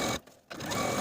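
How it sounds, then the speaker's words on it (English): A sewing machine stitches a skirt's seam allowance to its facing 1/8 inch from the original seam line, a steady close whir that pauses briefly and then runs on. "we're going to stitch the seam allowance to the facing 1/8 of an inch away from our original stitching line"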